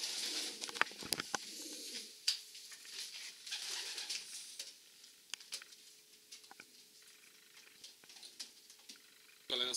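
A Horemans pigeon hen, Dunka 239 bred in 2011, gives soft intermittent coos amid light patter and rustling in a loft, with a faint steady tone underneath.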